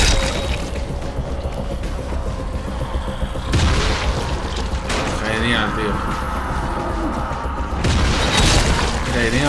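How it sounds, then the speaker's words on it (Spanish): Several heavy booming blasts from the video game Dying Light burst out at intervals over a dense, noisy game soundscape, each explosion loud and close. "Un explosivo o algo explota por ahí, tío."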